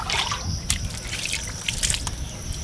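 Water poured from a container at home, a steady trickling and dripping splash that runs continuously throughout at fairly close range.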